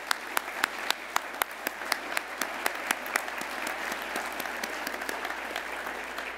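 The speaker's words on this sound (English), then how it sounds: "let's give a round of applause, thanks, and congratulations to the family members and other supporters" Sustained applause from a seated crowd at an awards dinner, a dense and even patter of many hands with a few sharper, nearer claps standing out, steady throughout at moderate volume.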